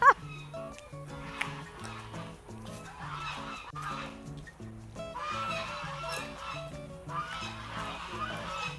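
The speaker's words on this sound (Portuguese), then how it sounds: "Vou falar com o som dos gansos ao fundo" Geese honk repeatedly in a busy, overlapping chorus, fairly close and steady throughout, at a townhouse complex in eastern São Paulo, with no one speaking.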